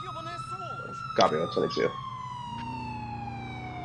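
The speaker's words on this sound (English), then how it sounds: "I need to get far away from this ambulance before my brain explodes" An ambulance siren in GTA IV with the LCPDFR police mod sounds as a steady, slowly falling wail that runs through the whole stretch, beneath a voice and brief bursts of radio chatter.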